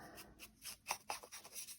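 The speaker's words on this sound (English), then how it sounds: "just ink those edges, take away the white core." Edges of a paper journalling envelope are inked with an ink pad, giving quiet, quick scratchy rubbing strokes repeated in a rapid irregular rhythm, close and faint.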